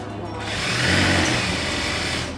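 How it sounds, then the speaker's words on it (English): A sewing machine fitted with a piping foot stitches piping for a cushion cover, running as a steady, close, loud whirring hum that swells and then holds for a couple of seconds. "So with a piping foot on, fold it over and just stitch along"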